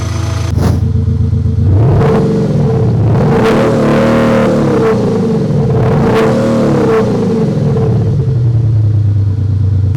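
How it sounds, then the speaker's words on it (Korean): An Audi A5 Quattro coupe with a gasoline engine and an aftermarket exhaust sound system idles with a loud exhaust burble, then revs up several times in rising and falling surges before settling back to idle. "이 차량 휘발유 차량인데 이제 소리박 사운드 시스템, 이제 배기 사운드가 장착이 되어 있습니다"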